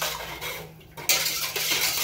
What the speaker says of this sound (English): I'm going to go ahead and stir it.